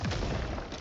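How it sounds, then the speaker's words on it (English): A big explosion from the Awakening of the Wood spell in a strategy video game, a short dense burst of booming noise that fills the moment and fades quickly. "Awakening of the Wood? Great spell. Nice big explosion."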